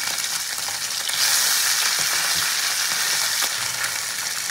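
Kajli fish fry in hot oil, making a loud, steady crackling sizzle up close with occasional spatters and a few stirring scrapes, with no voices.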